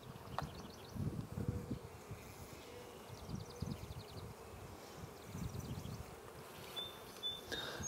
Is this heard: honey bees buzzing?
yes